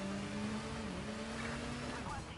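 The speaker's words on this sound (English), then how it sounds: "the bike revving up actually sounds pretty cool" A steady motorcycle engine drone in the video game Gotham Knights, with a sustained revving tone that shifts slightly in pitch, loud and continuous, with game-like noise around it.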